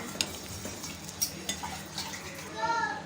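A spoon stirs bitter gourd and cowpea curry with dal in a pot, producing soft scrapes and metallic taps over a faint simmer, while a voice talks in the background.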